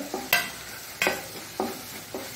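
Coriander and cumin powder fry in a pan while being stirred, making four distinct scraping strokes over a soft sizzle, close and fairly quiet, with no talking.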